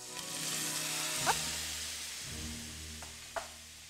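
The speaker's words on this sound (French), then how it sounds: "On va déposer les carottes dans la poêle." Carrots cooking in a pan with fish stock, giving a steady soft sizzle and simmer with a few light clinks and scrapes of a utensil against the pan, close and fairly quiet.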